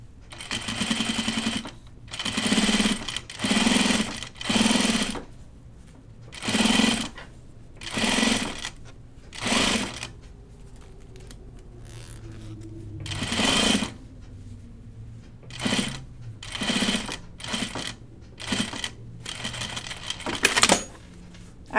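A sewing machine stitches the seam of a Grainline Studio Portside dopp kit in a series of short, close bursts of rapid mechanical chatter separated by brief pauses, with no talking.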